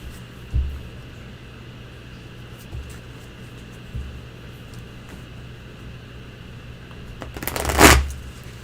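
A deck of tarot cards gets a short, loud shuffle near the end. Before it, a low steady hum and a few soft thumps sit in the background.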